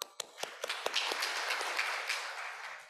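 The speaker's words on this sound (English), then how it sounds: "Please welcome her in a loud applause." Applause from a conference plenary audience welcoming a speaker, starting with a few sharp separate claps that swell into steady, fairly close clapping lasting the whole stretch.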